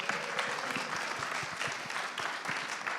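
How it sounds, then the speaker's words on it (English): Sustained applause from a crowd at a triathlon pre-race press conference, steady clapping with no voices over it. "They deserve one more round of applause."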